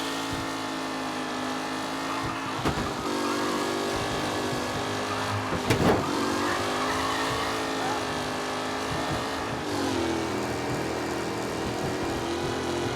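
Several race cars from the Mafia Definitive Edition game in a close racing pack, engines droning steadily with shifting pitch and brief sharper bursts as cars pass, a continuous busy motor roar throughout.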